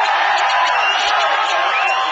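A hall full of students clapping and cheering at a college event in Sivakasi, a dense roar of applause heard close and loud across the whole short stretch.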